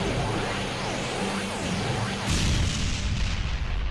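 Artillery bombardment in the Gintama Rumble video game: a steady, dense roar of shelling with whooshing rounds, then a sharp, heavy impact that leaves a louder rumbling wash of blasts.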